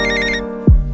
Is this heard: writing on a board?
no